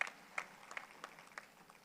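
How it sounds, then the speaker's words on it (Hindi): Scattered, sparse claps from a poetry-recitation audience at a Hindi kavi sammelan in Chimur, a few distinct sharp hits spaced out rather than sustained applause, fairly faint. "मुझे एक बार ताली बजाकर एक बार विश्वास दिला दीजिए कि आप सुनेंगे।"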